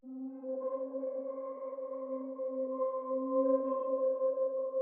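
A dark, sustained synth pad holds a low, steady chord with soft overtones, quiet and even throughout with no other sounds.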